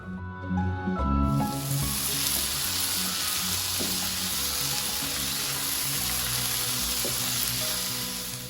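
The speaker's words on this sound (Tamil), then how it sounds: "நம்ம நறுக்கி வச்சுருக்கிற புடலங்காயை சேர்த்து நல்லா வதக்கி வேக விடணும்." Chopped snake gourd sautéing in a hot pan, a steady close sizzle with a brief clatter of pieces going in at the start, then continuous frying hiss.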